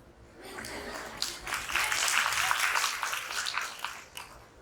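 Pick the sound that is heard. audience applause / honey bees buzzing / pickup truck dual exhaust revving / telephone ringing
audience applause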